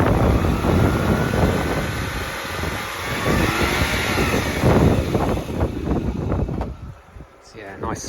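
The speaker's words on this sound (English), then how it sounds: "Yeah, nice smooth rotary engine there." A 2009 Mazda RX-8 R3 rotary engine revs and roars smoothly with wind buffeting the microphone, then the revving eases off as the engine settles.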